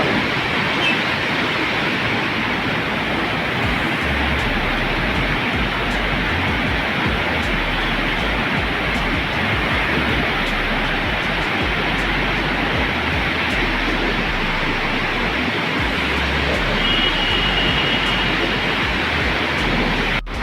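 Loud, steady roar of rushing canal water from the Sutlej River at high level, a continuous churning wash filling the whole clip with no voices.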